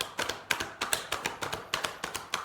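Tarot cards being shuffled close by, a quick run of crisp, regular tapping riffles roughly every quarter second, with no talking.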